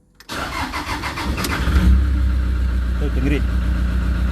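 A Toyota Innova with a 2KD diesel engine cranks briefly, catches and settles into a steady, rumbling idle close by, while someone talks over it.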